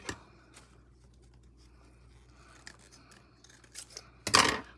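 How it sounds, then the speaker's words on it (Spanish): Scissors snip through the wire stem of a crochet flower, a few quiet clicks followed by one sharp, loud cut near the end, close up with no talking. "Le hago así con la tijera y luego solamente"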